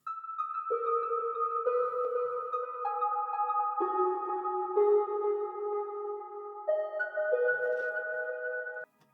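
Synth plucks with echo, made in Ableton Live, playing a slow descending and rising melody; each note rings out and repeats into a soft trailing delay, layered over a sustained tone, alone and clear.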